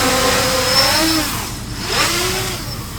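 An FPV drone's motors whine and swell as it flies past at speed, the pitch rising and falling as it sweeps near and away, loud and with no talking.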